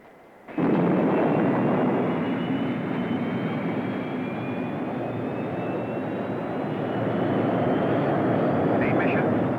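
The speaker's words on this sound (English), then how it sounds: "We have liftoff." A spacecraft lifts off in a TV series with a sudden loud, sustained roaring rumble that holds steady for several seconds, with a faint rising whine on top.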